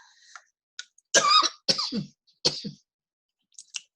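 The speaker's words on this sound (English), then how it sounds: "I apologize for my coughing." A few harsh, loud coughs in close succession, with quieter breaths and throat sounds around them.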